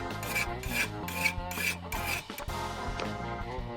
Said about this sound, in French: essaie de scier les lingots d'or